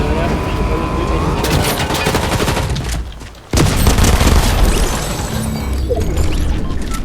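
Video game gunfire crackles in loud rapid bursts, dense automatic fire with a brief lull midway and then a sharp resumption, with a player talking over the action.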